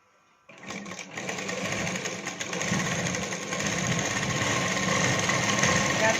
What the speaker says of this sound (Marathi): आपले बाहीचा शेप आहे त्याच्यानुसार आपण मशीन टीप टाकायची